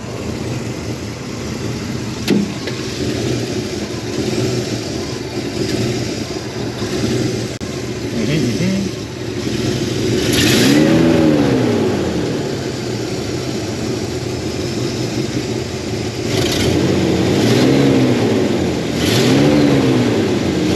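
A 1965 Oldsmobile Ninety Eight runs warm at a steady idle, then revs up sharply three times, each rev rising and falling back, loud and close with no talking.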